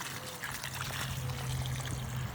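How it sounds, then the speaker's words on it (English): Faint, steady trickle of water soaking a garden bed during summer watering, a soft continuous dribble with light outdoor background and no voices. "So we're just gonna let this water for a little while"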